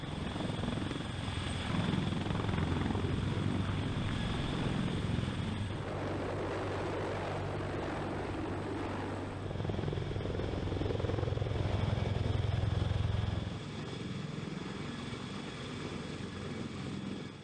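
A King Stallion heavy-lift military helicopter flies overhead, its rotor and turbine roar steady and loud throughout, with a deep low-frequency throb that swells and eases as it passes, and no talk.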